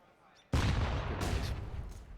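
Gunfire in Counter-Strike on the Overpass map erupts suddenly as a loud, sustained burst of shots and booms after a brief quiet start, continuing to the end.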